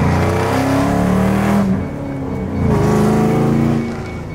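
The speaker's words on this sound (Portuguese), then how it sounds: "Meu irmão tá indo com o carro ali na frente," A car driving along, its engine a steady loud drone with a shift in tone partway through, close by throughout with no talk.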